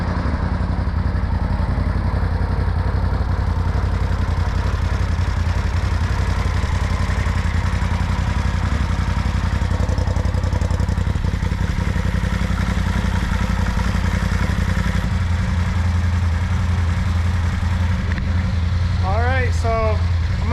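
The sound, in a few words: Polaris RZR Turbo engine idling during heat cycles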